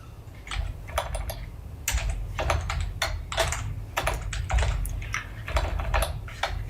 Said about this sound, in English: I am having one heck of a time typing today.